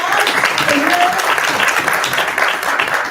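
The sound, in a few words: audience applause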